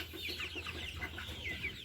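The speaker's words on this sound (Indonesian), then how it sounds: "Nah ini ayam-ayam kita barusan tadi" Chickens clucking on a broiler farm, a dense continuous chorus of overlapping clucks and chirps from many birds at moderate level.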